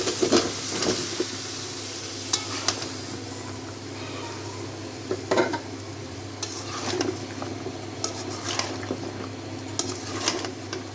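Vegetables hit spiced oil in a pan and sizzle steadily up close, with scattered sharp clinks and scrapes of a spoon stirring over a low background hum, no speech.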